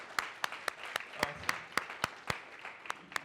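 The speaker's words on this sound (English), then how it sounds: "give me a round of applause for the drum." Sharp, widely spaced claps ring out in a steady rhythm, a sparse clapping that sounds more like a few hands than a full audience.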